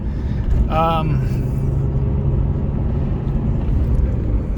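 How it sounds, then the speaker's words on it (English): A car drives along a road with a low, steady engine rumble and road noise running continuously under a voice speaking from inside the car. "So the car obviously really moves."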